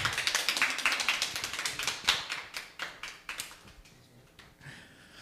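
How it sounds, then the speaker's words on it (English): Small talk show audience giving a round of applause for a guest, sparse distinct claps from a few people in a quick irregular patter that thins out and stops near the end. "Round of applause for Jake Jank, everyone."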